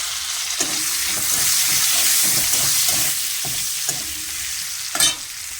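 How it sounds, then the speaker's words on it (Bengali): Oil sizzles and crackles steadily as onions fry for a jackfruit and prawn dish, with spoon or spatula scraping and stirring against the pan throughout. "চিংড়ি করার জন্য তেলে দিয়ে দিলাম আমি পেঁয়াজ"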